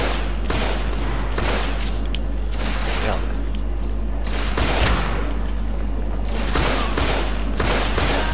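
Gunshots in The Order video game, repeated sharp cracks in irregular clusters over a constant loud low drone, with someone talking over the action.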